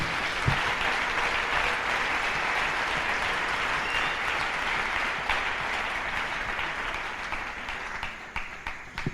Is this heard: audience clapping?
yes